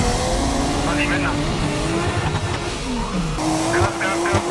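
A drift car skids through a qualifying run, its engine droning loudly while tires squeal in long rising and falling sweeps, close and continuous from start to finish.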